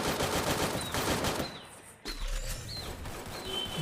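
Gunfire from the Free Fire Max video game during a ranked match, with rapid bursts of shots in the first half, a brief lull, then more shooting mixed with game effects and a faint bird-like chirp.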